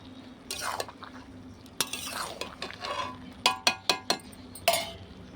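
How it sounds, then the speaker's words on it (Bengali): Chickpea dal with potatoes being stirred in a pan, a spoon scraping and clinking against the metal in quick strokes that end in a few sharp taps, close up over a faint simmer. "এবার নেড়ে দেবো, মানে পিট পিট করে দেবো, যাতে তলারগুলো সেদ্ধ হয়েছে আর উপরেরগুলো খুব সুন্দরভাবে মিশে যায়"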